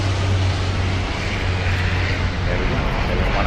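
A Lockheed LM-100J, the civilian version of the C-130, flies overhead with a loud, steady propeller-engine roar that stays close and continuous throughout, while people talk faintly under it.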